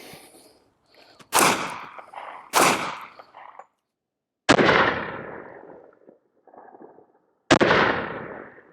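Loud, sharp shots ring out from a 10mm Smith & Wesson M&P pistol with a 4.6-inch barrel firing 165-grain rounds into Level IIIA body armor, four cracks spaced a second or more apart, each ringing out briefly outdoors.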